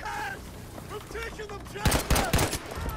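Several quick, sharp bursts of close gunfire in the World War II shooter Battlefield V, rising in the second half after a stretch of quieter background game sound, loud and punchy.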